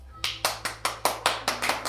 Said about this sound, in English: Shall we give them a clap?